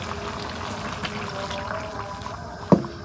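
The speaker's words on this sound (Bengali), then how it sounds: "অল্প পানি দিয়ে দিই।" Water is poured into a karai of fish curry cooked with bottle gourd, a soft steady trickle over low kitchen noise, ending in a short sharp splash near the end.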